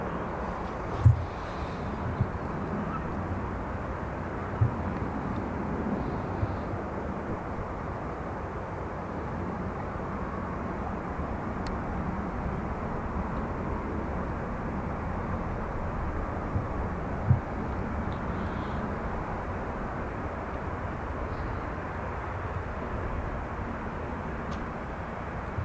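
A Ryanair jet at Dublin Airport sits during pushback, giving a steady low engine and airport rumble heard from a distance, with wind and faint occasional clicks and no talk.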